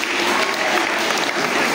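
At a children's Sunday school drama and culture competition, an audience breaks into dense, loud, sustained applause that runs unbroken through the short stretch.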